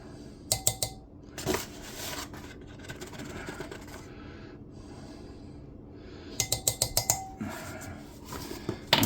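Cubed potatoes are tossed with sprinkled flour in a pot, giving bursts of rattling, scraping metal clatter in quick clusters with quieter rustling in between, close and moderate in level.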